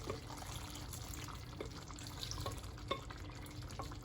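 Cooking juices from braised meat, with olive oil and butter, tipped into a pot of forest kebab, a soft, low wet pouring and sloshing with faint clinks, quiet and close.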